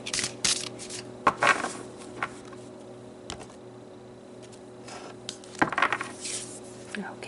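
Oracle cards being shuffled and pulled, a run of soft, close papery slaps and clicks in scattered bursts with quieter rustling between, no talking.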